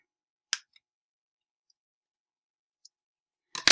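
Scissors snip through weaving strands in a quiet room: one crisp cut, a faint click, then a couple of soft snips and a louder pair of cuts close by.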